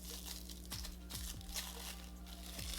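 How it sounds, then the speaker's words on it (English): Hollow silver nail foil being crumpled by hand gives soft, close crinkling and scattered crackles over a faint steady hum, quiet and irregular. "This is just a really pretty hollow silver foil, and I'm going to crumple it up"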